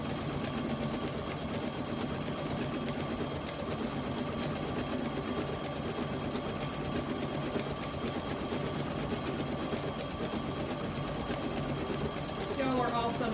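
A sewing machine stitches a monogram onto a towel, running steadily and close throughout with a dense, even mechanical whir, while faint talk sits underneath.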